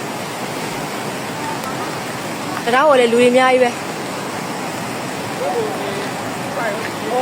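Floodwater pours in during a flood in Natmauk, Myanmar: a continuous loud roaring rush of water, with people's voices talking over it.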